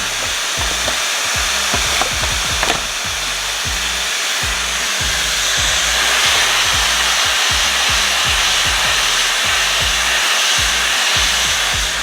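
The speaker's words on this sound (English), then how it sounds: "These blow dryers can get pretty loud." A blow dryer runs loudly and continuously, a steady airy whoosh with a rhythmic low flutter underneath, close to the listener.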